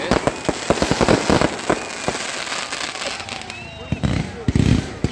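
LIYA 10x10 multicolour tail light fireworks shots launching, a rapid string of sharp cracking pops and bursts in uneven clusters, loud and close, with crackling between and people talking underneath.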